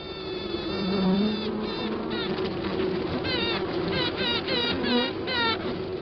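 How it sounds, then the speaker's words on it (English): A newly emerged queen bee piping inside a bee colony in Australia, a series of rising, whistling toots repeated in short bursts over the dense, steady hum of the hive. "It's the sound of the new queen as she emerges into the bee colony."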